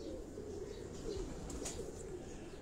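Pigeon cooing from a rooftop loft in Karachi Defence, a low soft warble that runs steadily the whole time under broad background noise, with no talk.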